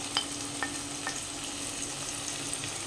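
Ground coriander, cumin and turmeric fry with ginger-garlic in a pan, giving a steady close sizzle with occasional sharp pops and faint stirring scrapes and no talking.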